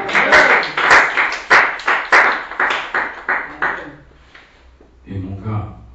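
A church congregation claps together in a steady, even rhythm of about a dozen loud claps. The clapping then fades, and a voice follows at the end.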